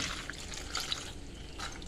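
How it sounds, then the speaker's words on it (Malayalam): Water poured into a cooking pot of spiced green pea curry, heard as a soft, steady splashing trickle that runs throughout, fairly faint and without any talk. "ഞാൻ കുറച്ച് വെള്ളം ഒഴിച്ച് കൊടുക്കട്ടെ"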